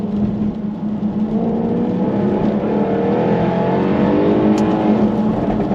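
A Jaguar F-Type R supercharged V8 revs up with a deep, throaty exhaust roar, pitch climbing steadily, loud and close throughout.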